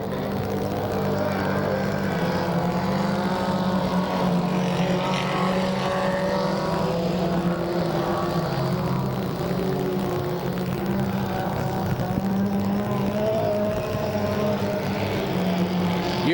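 Dirt track race cars roar around the oval in a continuous loud engine drone with rising and falling pitch as cars pass, a race announcer talking over it.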